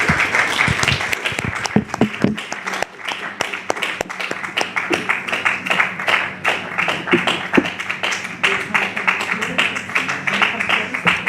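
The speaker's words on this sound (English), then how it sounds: "Let's give her a clap." A modest audience claps for a woman working with the NHS, distinct individual hand claps in an irregular, fairly close rhythm rather than a dense roar, with a few voices murmuring among them.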